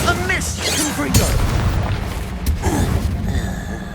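Fiery Confringo spell blasts in the Hogwarts Legacy video game, a loud booming burst near the start followed by further crackling impacts amid battle noise, with voices shouting over it.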